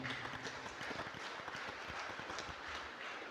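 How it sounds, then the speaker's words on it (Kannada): A church congregation at Christmas night Mass claps together steadily, a dense, moderately loud wash of hands filling a reverberant hall. "ಜೋರಾಗಿ ಯೇಸು ಸ್ವಾಮಿಗೆ ಚಪ್ಪಾಳೆ ಕೊಡೋಣ"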